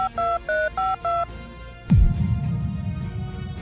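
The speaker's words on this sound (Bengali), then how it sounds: "দেখেছিস ও কাউকে কল করছে" Five short electronic keypad tones beep in an even rhythm as a phone number is dialed, followed by a soft thump and a low background rumble.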